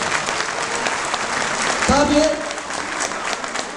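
Audience at a village cultural entertainment gathering in Erzurum applauds, a continuous dense clapping that fills the clip, with a brief spoken word over it midway.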